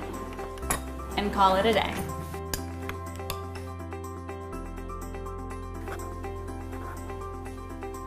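A spoon clinks against a bowl of chicken tortilla soup topped with avocado and fried tortilla strips, a few light bright taps under a steady background hum while a person talks.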